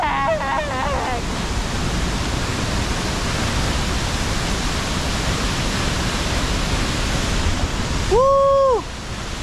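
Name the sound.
waterfall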